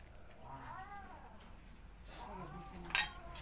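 A cat gives two drawn-out, wavering meows at moderate distance in an outdoor garden, over steady low background noise, followed by a sharp metallic clink.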